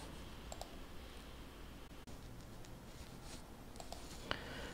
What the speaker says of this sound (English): now type in the email address of your teacher